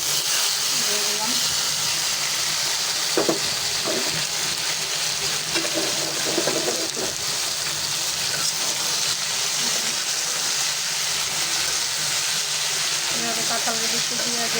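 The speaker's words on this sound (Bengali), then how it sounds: "এখন এর মধ্যে সিদ্ধ করে রাখা শাক, কাঁঠালের বিচি আর আলু দিয়ে দিলাম।" Boiled bottle gourd greens, jackfruit seeds and potato are tossed into hot fried onion and garlic, giving a loud, steady sizzle throughout, with faint voices and occasional stirring sounds underneath.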